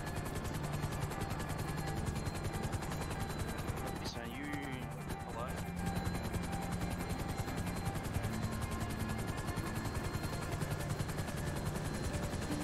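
Helicopter in a video game, a steady rotor drone filling the background at low level while players talk over it and faint gunfire bursts sound around it.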